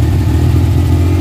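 A Suzuki F6A engine idles, a steady close low throbbing drone with an even rhythm and no talk.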